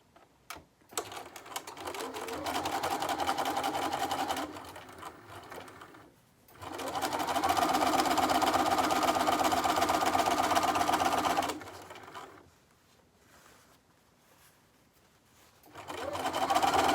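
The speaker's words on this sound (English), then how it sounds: "I am going to sew the sides again." A sewing machine stitching the side seams of a dress runs in long steady bursts of rapid whirring, loud and close, stopping and starting again with short pauses in between.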